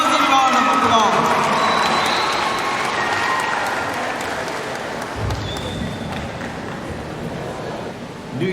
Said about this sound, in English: Come on, stand and give him a rousing round of applause.